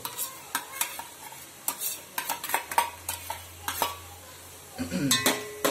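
Finely chopped capsicum is stirred through a sizzling pan for pav bhaji, with repeated sharp scraping strokes of a spoon against the pan over a low frying hiss.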